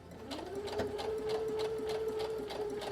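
A sewing machine stitching stiff fabric on a flutter sleeve, running at a steady rapid clatter with a sustained motor whine, close and continuous.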